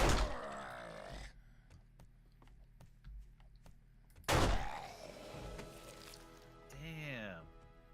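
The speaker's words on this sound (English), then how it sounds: "Are you punching that mailbox?" Bare fists punching a mailbox in 7 Days to Die: a loud hit, then a string of sharp thuds spaced about half a second apart, a second heavy impact, with voices talking over it.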